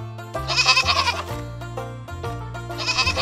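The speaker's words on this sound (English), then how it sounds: "Goats bleat to say hello." Goats bleat in a steady series of wavering, nasal calls, fairly loud and close, with a harmonic, musical backing running underneath.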